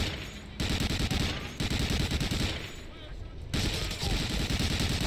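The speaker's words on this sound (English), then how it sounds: "everyone's shooting me, I'm gonna die" Dense, continuous automatic gunfire from the Medal of Honor Allied Assault video game, loud and nearly unbroken with brief lulls, a rapid chattering barrage of many weapons firing at once.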